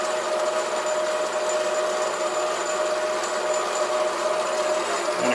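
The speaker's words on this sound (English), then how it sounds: "the carriage is moving slowly along, being powered by the lead screw" A SIEG 7x14 mini lathe runs steadily with its carriage driven slowly along the lead screw, giving a continuous even motor whine and mechanical hum, close and constant throughout.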